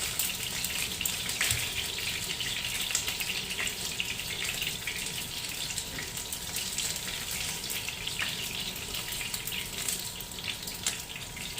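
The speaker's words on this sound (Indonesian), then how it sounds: "Sekali ini minyaknya gepat-gepat ya, bikin saya takut aja." Spicy crispy chicken frying in hot, spattering oil, a steady dense crackle and hiss running close and loud throughout with no voices.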